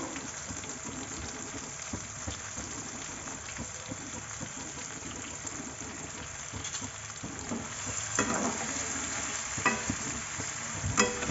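Stuffed ridge gourd pieces frying in a pan with onions, a continuous close sizzle with repeated stirring scrapes that grow louder toward the end.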